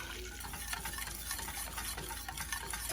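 Butter browning in a pan is stirred continuously, giving a soft frothy sizzle with quick scraping and ticking strokes close by, no voices.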